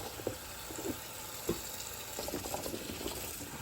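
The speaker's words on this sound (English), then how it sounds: "First thing we're going to do is give them a good rinse." Freshly picked green beans are rinsed under running water in a quiet, soft stream, broken by occasional light splashes and knocks.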